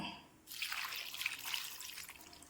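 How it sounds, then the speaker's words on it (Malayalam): Water pours into a cooking pot holding dried mackerel, a soft splashing, trickling stream starting after a brief quiet moment and running steadily close by, with no voices. "നമുക്ക് വെള്ളം ഒഴിച്ച് കൊടുക്കാം"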